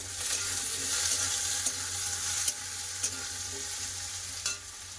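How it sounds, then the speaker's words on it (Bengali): Potatoes frying in a wok of spiced oil: a steady hiss of sizzling, broken by a few sharp clicks and scrapes as the pieces are stirred, nearby and alone. "আলুটা আগে ভাজা করে নেব"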